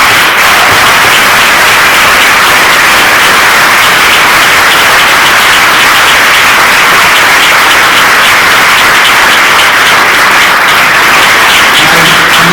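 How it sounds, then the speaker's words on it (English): A large banquet crowd at the Valley Brook gives sustained, very loud applause for twelve Tenafly Hall of Fame inductees, a thick unbroken wash of clapping lasting over twelve seconds. "would you all please join me in one round of applause for all 12 of our inductees"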